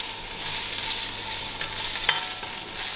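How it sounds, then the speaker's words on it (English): Tomato puree cooking down in a pot for moussaka makes a dense, constant sizzle and bubbling hiss with a faint clink of a utensil, close up and without speech. "You have to kind of cook out the tomato puree to take off the rawness."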